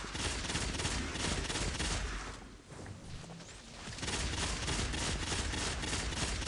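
A Bad Juju pulse rifle fires rapidly in the shooter game Destiny, a dense, loud stream of gunfire that pauses briefly midway and then resumes with no voices over it.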